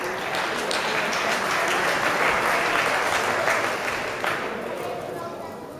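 A crowd at a boxing final bursts into sustained applause to welcome a guest, dense clapping filling the hall for several seconds with an announcer's voice over it, fading slightly toward the end.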